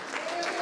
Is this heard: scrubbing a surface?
no